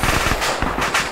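Machine gun fire in the Kyoshu Island game, a loud, rapid burst of closely spaced shots, close and continuous for about a second.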